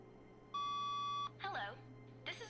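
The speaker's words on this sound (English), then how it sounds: "Which phone's ringing?" Electronic phone ring from The Stanley Parable: Ultra Deluxe, a steady multi-tone beeping burst followed by warbling trill rings that repeat, clear and fairly loud over a low background hum.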